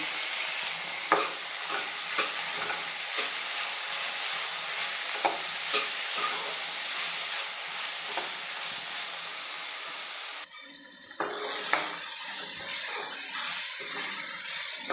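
Finely chopped tomatoes sizzle steadily in a hot pan for a radish stir-fry, a bright continuous hiss broken by light scraping and stirring knocks, close and without talk.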